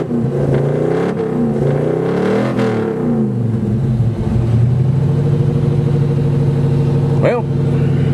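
An old rig's engine cold starting, then revving: it cranks and catches with rising and falling revs, then settles into a loud, steady idle close by, with a brief sharp rev near the end and a voice talking over it.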